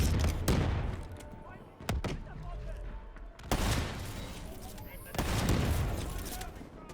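Sniper rifle gunfire in Call of Duty Black Ops 3, with sharp loud shots cracking out at irregular intervals over a continuous rumbling game soundscape, each report leaving a decaying tail.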